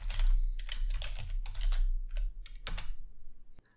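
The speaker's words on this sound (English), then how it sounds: "Now let's type first git version." A short command typed on a computer keyboard at a desk: a close run of quick, crisp key clicks in uneven bursts, ending with one sharp final keystroke.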